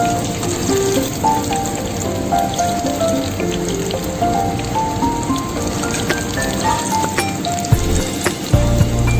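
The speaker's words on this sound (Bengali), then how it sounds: "চিকেনের পিসগুলো আমি সুন্দর গোল্ডেন ব্রাউন করে ভেজে নিয়েছি" Chicken pieces fry in hot oil for chili chicken, a loud, dense and continuous sizzle and crackle close up with scattered popping and no talk.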